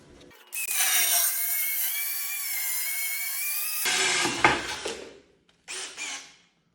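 A Victorytool drill bit bores holes, giving a long loud high whine, then shorter bursts and a final brief run with pauses between, close and alone.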